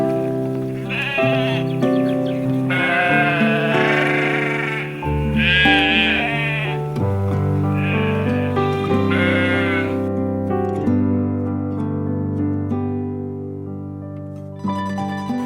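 Sheep on a dairy farm where ewes are milked for cheese bleat repeatedly, with several overlapping calls close by and loud, carrying on throughout with no talking.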